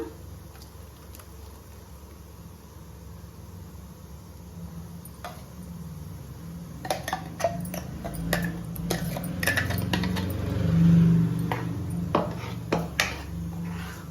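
Peanut chutney for idli is added to a pot and stirred in: several quiet seconds, then a busy run of close metallic clinks, taps and scrapes of a spoon against the vessel.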